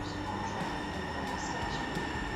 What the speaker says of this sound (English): Alright guys, our train reached. Our LightRail reached.